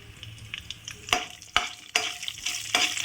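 Whole spices, including cloves, sizzle and crackle in hot oil as a tempering for bagara rice, broken by several sharp stirring clacks of a spoon against the pan.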